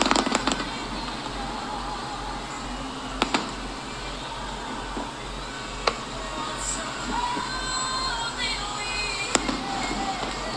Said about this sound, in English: Oh, that's a lot of fireworks.